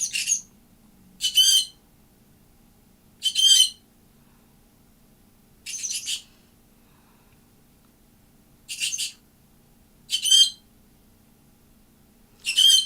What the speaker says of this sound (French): Ils sont là, les petits oiseaux, là.